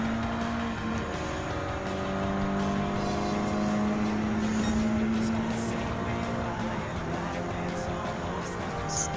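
Nissan S13 Silvia race car in Gran Turismo 7 holds a steady, droning engine note with shifting tonal whine as revs rise and fall, loud and continuous, with faint talk underneath.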